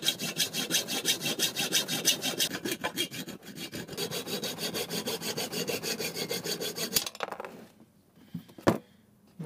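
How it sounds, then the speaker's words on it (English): A saw blade cuts through plastic on the engine bay washer bottle of an NB Mazda MX-5 Miata, giving a steady, close rasping stroke rhythm for about seven seconds before it stops, followed by faint handling noises and one sharp knock. "I'm going to nip this off with a saw blade"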